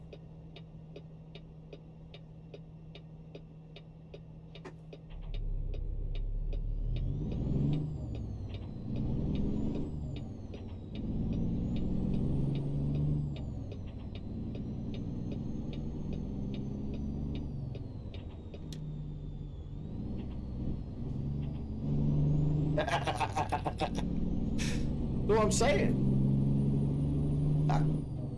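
A truck drives in American Truck Simulator: a low engine drone starts after a few seconds of light ticking and rolls on steadily, with sharp air-brake hisses near the end. A voice says a brief phrase.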